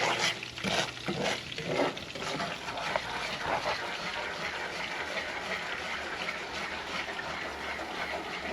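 A sugary glaze for Hennessy-glazed fried wings is stirred in a pan over low heat, giving a steady soft scraping and bubbling close by, with faint sizzle and no talking.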